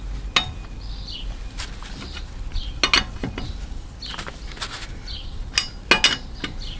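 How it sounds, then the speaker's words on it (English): A tire wrench loosens the four wheel nuts on a Toyota Yaris during a front brake pad job. It makes a few sharp metallic clinks and ratcheting knocks at uneven intervals over a quiet background. "with the tire wrench, slacken the 4 nuts."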